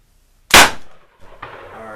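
A single sharp, loud crack from a .303 British Enfield rifle cuts through near-silence and fades quickly, followed by a fainter second bang a moment later.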